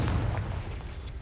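A Confringo fire-spell explosion in the video game Hogwarts Legacy lands as a heavy, low booming blast that fades into a rumbling tail over about a second, loud and up close.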